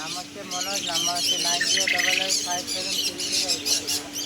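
Birds squawking at a bird market, shrill overlapping calls and chirps close by, with people talking underneath and a steady hum in the background.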